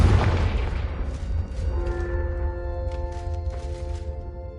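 A booming blast from the Confringo fire spell in a Harry Potter video game opens loud and close, then a bright ringing shimmer with sparkling bursts trails off over a steady low rumble.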